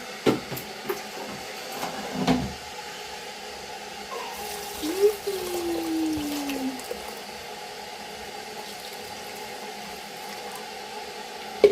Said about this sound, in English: I'm washing rice until it makes milk, or I'm milking rice.